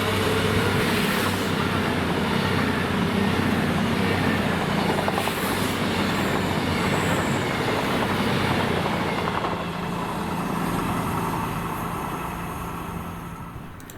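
A diesel passenger train, two coupled units 221115 and 221107 running Glasgow Central to Crewe, roars past close by, a loud steady engine drone and wheel rumble that slowly fades toward the end.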